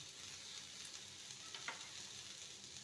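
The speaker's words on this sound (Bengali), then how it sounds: "ভালো করে ভেজে নেব।" Chopped vegetables with onion, green chili and garlic fry in a pan, giving a steady, faint hiss and sizzle throughout with a few soft stirring scrapes and no talking.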